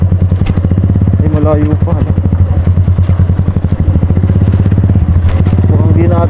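Motorcycle engine chugging steadily at close range during a ride, a loud rhythmic low-pitched drone with clattering bumps, while people talk over it.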